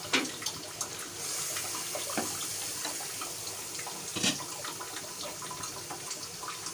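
Water added to tomato masala in a pan for dhaba-style daal chawal, a continuous close trickle with a few sharper splashes and clinks, no voices.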